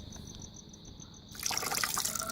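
Residual water trickles and drains from cleaned, washed blue swimmer crabs as they are tilted, starting with faint drips and swelling into a steady splashing flow, close by.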